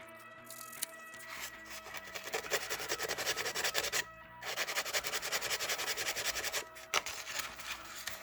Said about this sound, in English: Pick off the burrs from the Dremel work.